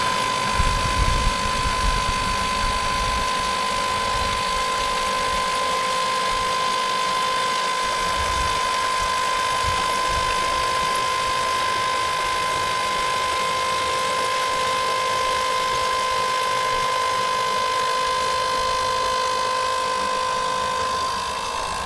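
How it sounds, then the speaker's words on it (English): Oil preluber pump on a Mercedes E-Class W212 E250 OM651 engine, a loud continuous mechanical whine and ratcheting grind with a steady high tone, running unbroken at close range with no speech. "As you can see, the pump is changing the noise."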